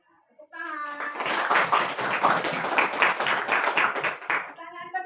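Classroom hands clapping together in a dense, lively burst lasting about four seconds, with children's voices briefly before and after.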